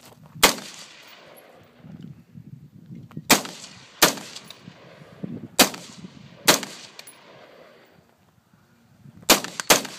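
Rifle fire during a timed shooting drill at a 10 MOA target, seven or so sharp cracks at irregular intervals, some in quick pairs, with faint shuffling and background noise between shots.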